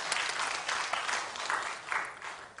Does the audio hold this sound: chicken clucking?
no